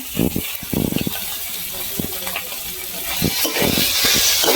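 Shrimp with cucumber, potato, ginger, green chilli, cumin and coriander powder frying in a pan, a steady close sizzle with scraping stirs and clinks from a spoon.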